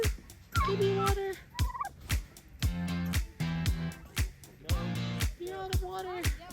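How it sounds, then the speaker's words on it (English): Farm turkeys gobble in repeated loud bursts close by, several calls in quick succession with short gaps, while the birds are being caught alongside chickens. "got the boys catching these chickens and turkeys"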